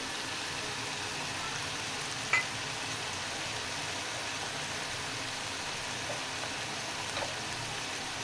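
Spices with cumin, coriander seeds and red chilli powder stir-frying in a pan for desi chicken paya, a steady soft sizzle with a couple of faint clinks, no talking.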